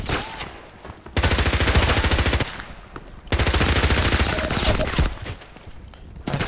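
Sustained automatic gunfire in the online shooter Contract Wars, two long rapid bursts of loud close shots separated by a brief pause, with scattered single shots around them.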